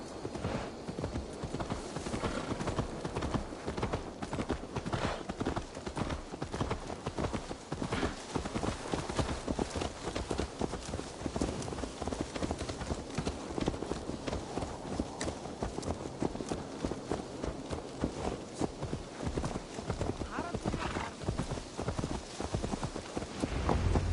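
Horse hooves clip-clop in rapid, steady rhythm in the video game Assassin's Creed Valhalla, up close and continuous, with an occasional faint whinny.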